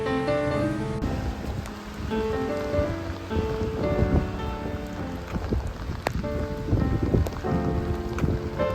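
Steady rain falls near a train station while walking into the Netherlands from Germany, a dense continuous patter heard close, layered with tonal background sounds and occasional sharper drops.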